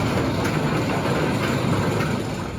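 Nitro roller coaster train at Six Flags Great Adventure on opening day, a loud continuous roar and rattle of wheels on track with rhythmic clacking, close and sustained without talk.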